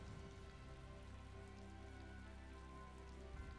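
Rain falling in Tales of Vesperia, a faint, steady patter over a soft continuous wash with a low tonal hum beneath.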